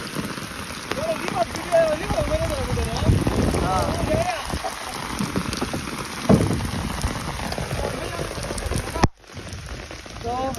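Rain pours steadily onto open water around a small boat out in a wetland, a dense continuous patter with wind buffeting the microphone and people talking under it.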